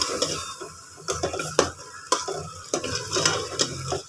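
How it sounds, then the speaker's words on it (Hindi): Black chickpeas roast in ghee in a pan, with repeated sharp scrapes and clanks of a spoon stirring over a low sizzle, loud and close, without talk. "घी डाल के फिर भुनेंगे हम।"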